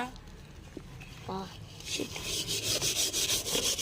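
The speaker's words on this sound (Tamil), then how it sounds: "கடாய் தேய்க்கும் வீடியோ" A scrubber works over a kadai, a metal wok, in quick, repeated close-up strokes that grow louder and more rhythmic after a short quiet start with brief voices.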